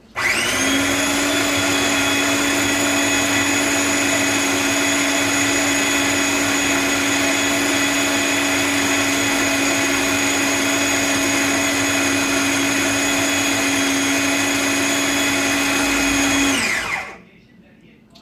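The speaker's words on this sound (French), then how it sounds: "You can use your blender. If you don't have a food processor, just go with your blender." A kitchen blender or food processor runs continuously at a steady high whine for about seventeen seconds, loud and close, then winds down and stops.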